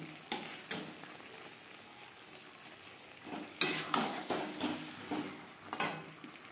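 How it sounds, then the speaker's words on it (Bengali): Potatoes, peas and spices are stir-fried in a pan, with quiet scraping stirs and bursts of sizzle coming in uneven strokes over a soft background. "মটরশুঁটির সাথে আলু ও মশলা নাড়াচাড়া করে নেওয়ার পর"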